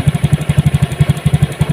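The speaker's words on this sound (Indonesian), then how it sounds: "hidupkan mesinnya" A Honda Beat Deluxe scooter fitted with a Vario 125 injector and remapped ECU idles after starting, its single-cylinder engine putting out a steady, fast thudding pulse up close with no voices.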